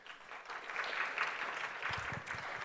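Audience applause at an IRENA session on solar photovoltaics and gender, held in a conference room: steady, moderately loud clapping from a seated crowd sustained throughout, with a few deeper thumps near the end.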